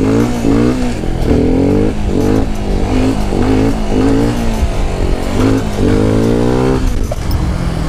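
A 125cc four-stroke motorcycle revs repeatedly close to its limiter: loud, rapid throttle blips rise sharply in pitch and then fall back in a pulsing rhythm, heard close up with no talking.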